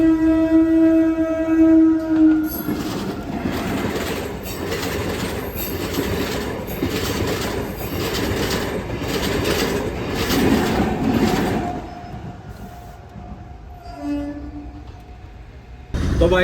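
A Lalpari train bound for Raipur runs past a railway crossing in a forest area, its wagons clattering by loudly with rhythmic wheel clicks and squeals before the sound cuts off and a quieter hum remains.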